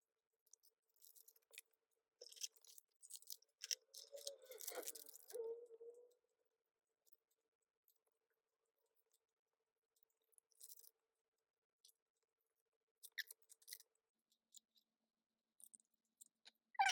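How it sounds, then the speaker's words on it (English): Photocards being slipped into plastic sleeves, giving faint crinkly rustles and clicks in a busy stretch early on, then sparse quiet handling sounds with long pauses. "Let me re-sleeve these real quick."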